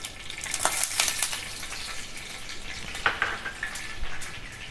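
Oil heating in a frying pan for kaleji masala, giving a light, crackling sizzle with scattered sharp pops up close, fairly quiet overall.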